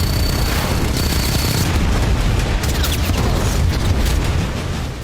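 Dense, continuous rumbling booms from bombs dropped into the sea by two fighter jets, a roar of blasts overlapping one another, loud and sustained without any pauses.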